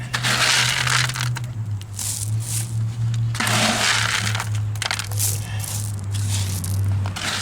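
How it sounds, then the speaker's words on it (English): Gravel is poured and shoveled into a masonry patch hole, loud crunching and rattling bursts in a steady working rhythm with a low hum running beneath. "Put some gravel in there."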